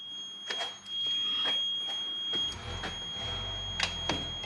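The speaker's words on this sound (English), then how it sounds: "You're the one that wanted the beeping multimeter" A multimeter beeps in continuity mode while wiring on a transmission shift inhibit switch is tested. A steady high tone sounds for most of the stretch, with short beeps near the end, close by, under faint background noise.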